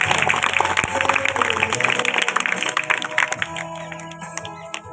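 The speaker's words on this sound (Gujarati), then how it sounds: "સરસ્વતી ટીમને પણ તાળીઓના ગડગડાટથી વધાવીશું." A crowd of schoolchildren and adults claps to welcome the Saraswati team at a primary school quiz competition in Ajapura. Dense, steady applause fills the room, then thins into scattered claps toward the end.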